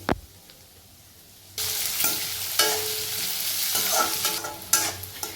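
Dry fruits and raisins, along with sunflower seeds, fry in ghee for a laddoo. A sudden loud sizzle erupts after a quiet start, then holds steady with occasional stirring scrapes.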